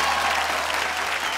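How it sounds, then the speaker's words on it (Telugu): An audience at a children's creativity competition applauds the six finalists, a dense and steady wash of clapping heard close, with no talk over it. "కాబట్టి చప్పట్లతో అభినందించండి."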